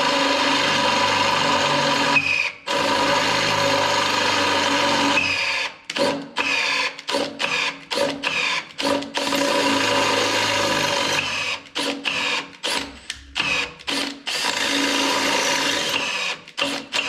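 An 8.5 mm drill bit bores a hole while fitting a bracket, a loud steady motor whine in long runs followed by a series of short stop-start bursts near the end.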